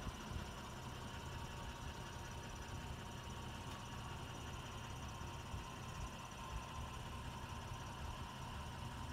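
A rock crawler fitted with Marlin Crawler extreme gearing creeps downhill on engine compression braking, its engine holding a steady low, rumbling drone throughout without any talk.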